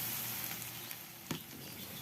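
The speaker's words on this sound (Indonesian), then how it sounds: "kemudian kita goreng tempenya." Tempeh frying in hot oil over medium heat, a steady low sizzle with a soft crackle partway through, close and continuous without talk.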